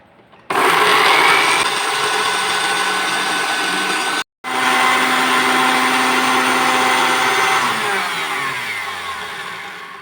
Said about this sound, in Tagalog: Ito may blender namin, oh.